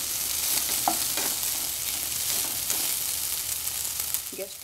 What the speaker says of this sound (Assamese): অকল হিলা ফুলখিনি ভাজি হৈ গ'ল।